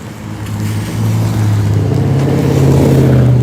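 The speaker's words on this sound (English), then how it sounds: "The cars are zooming by." A motor vehicle on a rainy road passes close by, its engine drone rising steadily and growing louder over a few seconds.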